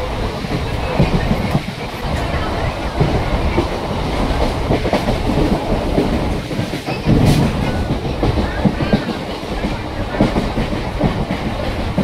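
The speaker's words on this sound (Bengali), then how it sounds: "আমাদের ট্রেন ঢুকলো পালপাড়া স্টেশনে" A Gede local train pulls into Palpara station, its steady heavy rumble carrying rhythmic clickety-clack of wheels on the rails and a brief metallic screech partway through.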